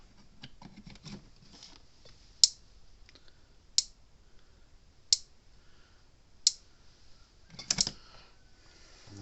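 A Cyclops Brute electric fence charger under repair ticks with sharp, evenly spaced clicks about every second or so, quiet and close, with faint handling noises between them and no talk.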